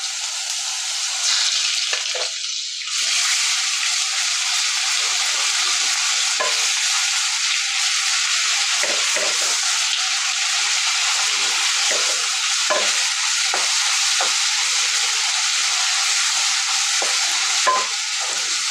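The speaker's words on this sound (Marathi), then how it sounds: "लसूण चांगला तेलामध्ये फ्राय होऊन द्यायचं आहे." Garlic frying in hot oil with cumin and ginger-garlic paste for Punjabi chole, a loud, steady, close sizzle with frequent scraping stir strokes and no talk.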